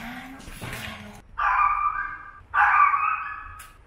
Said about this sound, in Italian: nonostante io sia in ascensore, sento il cane che piange